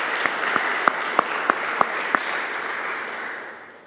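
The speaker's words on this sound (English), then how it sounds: "we should give Dr. Madar a round of applause" An audience applauds Dr. Madar, the organizer of a lecture series on Vatican II, with steady clapping and a few sharper individual claps standing out before it fades.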